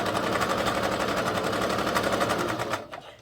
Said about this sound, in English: on both ends by sewing down on each side.